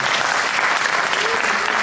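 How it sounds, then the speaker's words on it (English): An audience at a charity fundraiser applauds, a dense, even wash of clapping throughout, fairly loud and continuous. "Give them a big round of applause, please."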